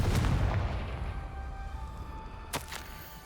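A Confringo spell blast in the Hogwarts Legacy video game goes off with a heavy booming burst at the start, then a rumbling decay, and a second sharp crack-like impact follows shortly after.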